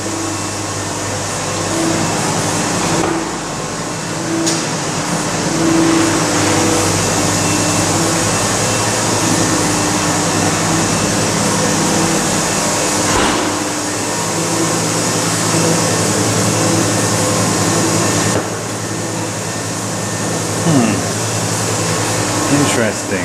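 A chocolate machine runs with a steady, loud mechanical whir and hum that fills the space continuously, with faint background voices and occasional small bumps.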